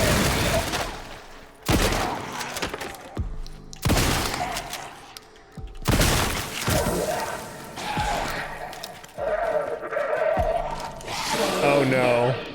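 Gunfire in the video game Resident Evil 9, with several loud sharp bursts and crashing impacts spread across the stretch, and a voice talking over the shots.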